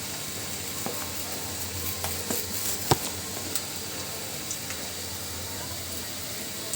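Spice paste with garlic frying in hot oil in a pan during Bengali village cooking, a steady close sizzle with faint stirring scrapes and one sharp clink partway through.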